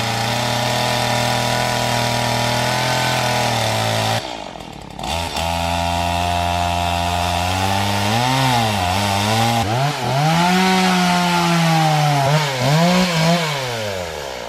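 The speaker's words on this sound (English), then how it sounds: "So this chainsaw isn't cutting at all." Chainsaw on a farm with a dull chain that won't bite into the wood, a loud continuous engine drone rising and falling in pitch through repeated revs and one brief dip near idle.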